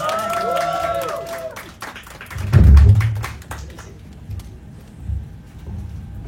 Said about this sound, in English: A big, big round of applause for Josh Yugen